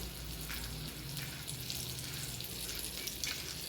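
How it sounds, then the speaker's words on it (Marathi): Semolina-coated potato slices fry on a hot tawa griddle, giving a steady, even sizzle that carries through the whole stretch with no voices over it. "छान असे रव्यामध्ये घोळवून एक एक आपण तव्यावरती सोडून घेणार आहोत"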